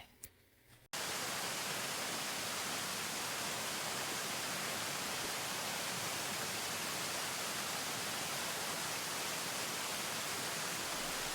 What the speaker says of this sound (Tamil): ஆயில் சூடாயிடுச்சு நம்ம பரோட்டாவுக்கு வந்து பொறிச்சு எடுத்துக்கலாம்